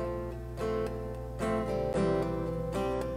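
A melodic instrument plays a well-known melody on guitar over a steady sustained backing, notes changing every half second or so, moderately quiet and without speech.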